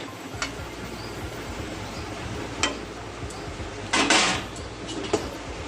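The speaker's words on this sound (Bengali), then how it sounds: "তো এবার এটা ঢাকা দিয়ে দেবে।" A lid set onto a cooking pot of cauliflower and potato curry, heard as a few faint clinks of metal cookware, with one brighter clatter near the end over a low room hiss.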